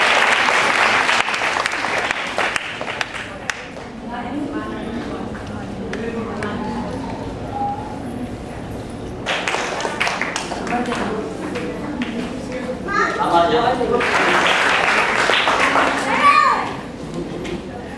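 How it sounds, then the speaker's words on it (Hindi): Audience applause at a girls' certificate award ceremony, sustained clapping that swells and fades across the whole span, with children's voices and chatter mixed in. "जोरदार तालियां।"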